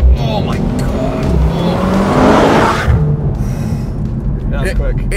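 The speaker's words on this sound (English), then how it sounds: "If I pull over and I do a launch, I can click this boost button here. Got the boost. Race start." A 2024 Mercedes-AMG C63 S launching from a standstill in race start mode: a loud, close roar of engine and road noise surges and builds, while an excited voice exclaims over it.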